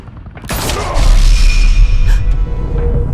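A sharp gunshot in Batman: The Telltale Series, a loud crack followed by a booming, ringing tail and rumble, no talking.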